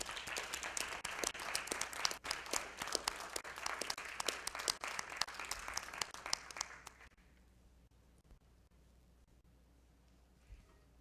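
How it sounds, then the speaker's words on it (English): Applause from the audience at the Seed Alliance Awards ceremony for an award recipient, a dense, steady burst of many hands clapping for about seven seconds before fading abruptly into quiet room tone. "Please, let's give Sarah a round of applause."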